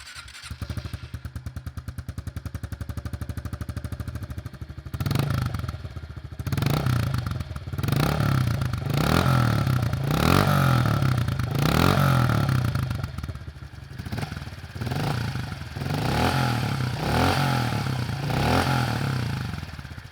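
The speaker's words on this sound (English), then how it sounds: "Now let's start it up and show you guys what it sounds like" A 2022 Honda CRF110F dirt bike engine runs with a low buzz, then catches into a loud, close, throbbing run with repeated revving pulses, heard alone without voices.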